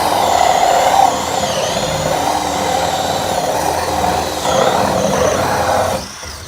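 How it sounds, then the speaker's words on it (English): A power drill with a hole cutter whines steadily as it bores through a black plastic IBC tank, its pitch wavering slightly before cutting off abruptly near the end. "So let's drill this hole."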